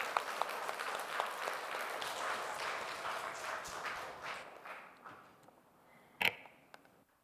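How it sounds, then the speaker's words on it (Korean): A church congregation at a Sunday service claps in encouragement, a soft, fairly distant round of applause that fades out over several seconds, ending with a sharp single knock or clack. "우리 더 오래오래 건강하게 사시라고 한번 격려하는 박수 보내겠습니다"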